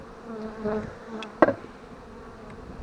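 Honeybees fly around a hive in brief, faint buzzing passes, one louder bee zipping close by near the middle, with no talking.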